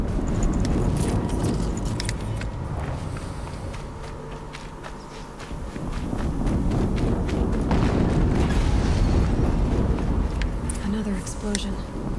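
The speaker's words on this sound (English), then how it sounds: "Another explosion." Explosions go off in the video game Horizon Zero Dawn as deep, rumbling booms that swell in the second half over a busy mix of game noise, crackles and footsteps.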